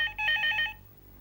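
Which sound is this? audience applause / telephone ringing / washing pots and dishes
telephone ringing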